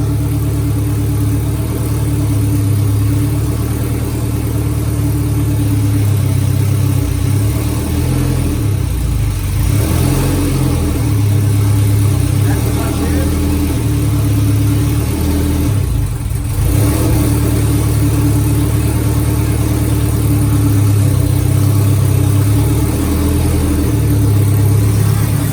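A car engine in an Acura Integra running in neutral holds a loud, steady hum with strong low harmonics, close by and continuous, with slight shifts in pitch but no clear revs, no voices.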